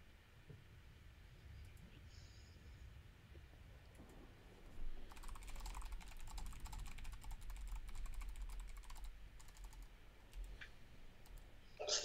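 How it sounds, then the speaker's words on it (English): Rapid clicking keystrokes on a mechanical keyboard at a computer during an online card-game session, light and intermittent at first, then a denser, faster burst of typing in the second half, with no talking. "The soothing sound of Frank's mechanical keyboard"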